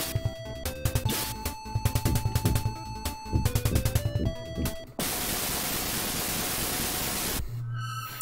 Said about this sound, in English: Random white noise.